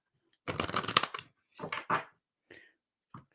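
A deck of cards is shuffled up close, with a long riffling burst followed by two shorter bursts and a few light taps as the cards settle.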